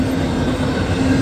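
A CSX intermodal freight train rolls past on the New Castle Subdivision with a loud, steady rumble and rail clatter, close by and without voices.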